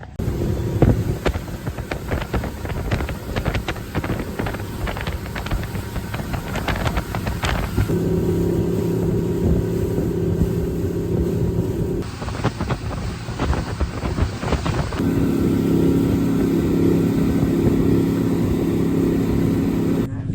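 A steady boat engine drones continuously for the whole stretch, close and loud, with wind rushing against the microphone and no talking, in Venice, Louisiana.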